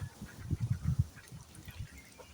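Farm ducks bathing and calling give a run of low, throaty quacks in quick clustered bursts, strongest in the middle, then trailing off into softer calls over a quiet background.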